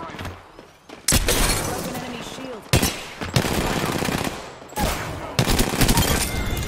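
Video game gunfire in bursts of rapid automatic shots, loud and close, cutting in and out in several long volleys with short pauses between them.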